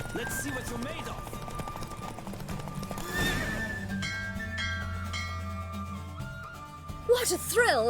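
A horse in The Witcher 3 gallops with steady hoofbeats, then neighs loudly near the end, with in-game voices and music running underneath.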